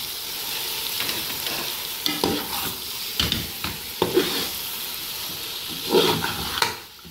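Green chillies stirred into chana dal and bitter gourd in a hot pan, a steady sizzle with several scraping strokes of a spoon against the pan, close and clear.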